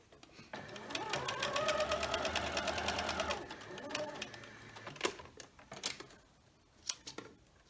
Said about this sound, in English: So I'm going to continue down this strip, sewing, starting and stopping at the blue lines